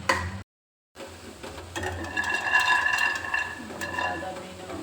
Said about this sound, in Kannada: ಇವಾಗ ತರಕಾರಿ ಎಲ್ಲ ಫ್ರೈ ಆಯಿತು.